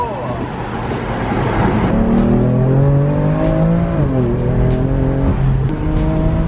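A BMW F80 M3 accelerating hard, its engine note climbing through rising revs with a shift partway, loud and close from inside the car.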